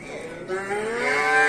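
A young suckling calf at the Prigorodny livestock market near Bishkek gives one long, close, rising moo that swells louder toward its end over a low background murmur.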